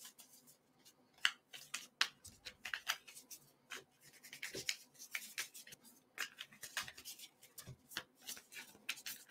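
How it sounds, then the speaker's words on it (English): Playing cards being shuffled by hand during a tabletop game of Tranquility, a quiet run of crisp riffling and snapping clicks and rubs with no talking. "I'm going to shuffle my start card in"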